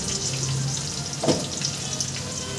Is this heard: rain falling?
no